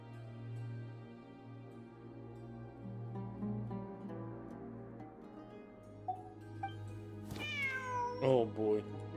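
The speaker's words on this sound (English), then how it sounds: "there it is! The cat!" A cat in the Genshin Impact video game gives a few short, rising meows near the end, loud and close over a steady, low in-game background sound.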